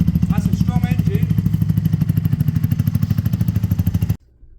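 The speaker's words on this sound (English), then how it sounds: "That's a strong engine." A motorcycle engine runs with a fast, steady pulsing thump, loud and close, then cuts off abruptly near the end.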